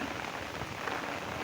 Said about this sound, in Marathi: पाऊस भरपूर पडत आहे